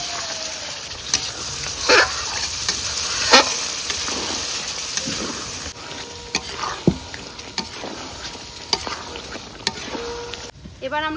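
Fried chicken pieces are stir-fried with potatoes, turmeric and yogurt for chicken biryani, a close, steady sizzle punctuated by frequent spatula scrapes and knocks against the pot, with a faint background hum.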